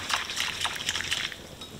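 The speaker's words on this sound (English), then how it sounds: "with our pot and our whisk, we're gonna stir this, and you're gonna stir it pretty quickly, get like a little bit of a vortex going in there" A whisk stirs simmering soup quickly in a pot, making a close, steady wet swishing and light sloshing with small liquid splashes and no talking.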